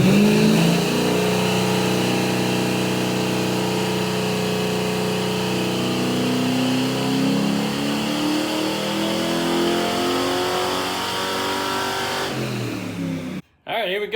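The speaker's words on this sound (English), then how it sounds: "So let's go ahead and get that baseline pull with no nitrous," Car engine with a Sniper nitrous setup revving hard and loud on a dyno during a baseline pull without nitrous, a steady sustained roar with rising harmonics that cuts off abruptly near the end.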